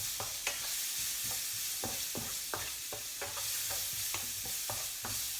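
Food stir-fried in a hot pan over high heat, with prawns to follow: a steady close sizzle runs throughout, broken by repeated sharp scraping and tossing clatters from the spatula at an uneven rhythm.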